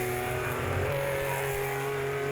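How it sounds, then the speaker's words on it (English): Group 5 sports race cars over 2 litres lapping a circuit in a vintage grand prix, engines droning steadily and fairly loud throughout with a sustained tonal hum, no talk. "we're halfway through this Group 5 race for over 2-liter cars"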